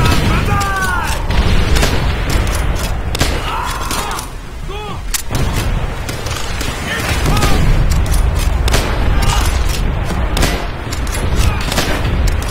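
Booming explosions and rapid gunfire fill a Call of Duty: World at War battle as a grenade goes off. The blasts and shots are loud and dense, and voices shout over them.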